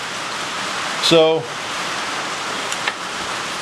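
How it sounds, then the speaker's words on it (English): Heavy rain pours onto the tin roof of an uninsulated shop during a windy storm, making a steady, dense roar throughout. A brief word is spoken over it. "It's pouring rain on our tin roof."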